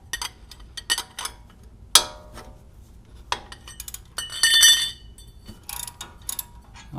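A breaker bar works on stiff 17 mm brake caliper bolts during a front brake job on a 2000–2007 Toyota Sequoia or Tundra, giving sharp metallic clicks and clinks and a brief grinding creak as a bolt gives, close and without speech.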